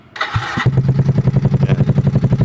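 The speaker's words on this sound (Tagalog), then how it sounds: "ngayon sound check naman natin yung V-Lane Carbon 370 natin" A motorcycle with a V-Lane Carbon 370 carbon exhaust starts up close by: a brief electric starter whine, then the engine catches and settles into a loud, steady, throbbing idle with rhythmic exhaust pulses. No one speaks.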